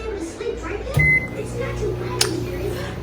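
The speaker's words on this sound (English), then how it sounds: "I'll bring y'all to the microwave" A microwave oven hums steadily close by while heating hair wax, with a short beep near the start, and a voice speaks faintly over the drone.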